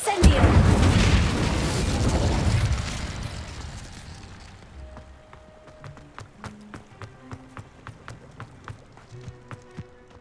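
Incendio fire spell cast in the video game Hogwarts Legacy: a loud booming whoosh of flame bursts out and roars for a few seconds, then fades into steady rhythmic footsteps and faint in-game tones.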